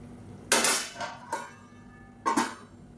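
Metal cooking pot lid set down with a clear clank, a smaller knock, then another clattering clank, each ringing briefly in a quiet kitchen.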